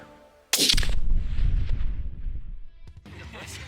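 A single loud, close hunting rifle shot cracks out of quiet and rolls into a long, booming echo that fades over several seconds, followed by a brief rustle.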